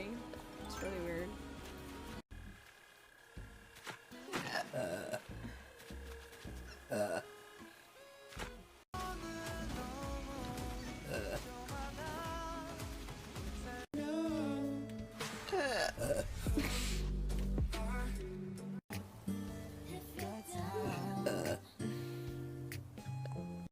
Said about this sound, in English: You know I burp when I'm hungry.